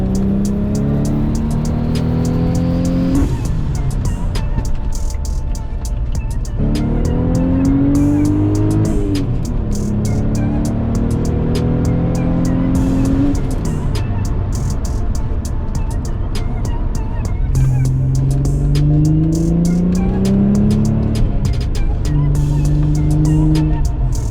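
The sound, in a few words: tuned car accelerating while driving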